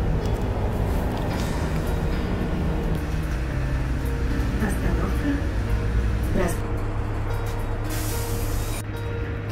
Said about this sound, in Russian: И едем мы на автобусе.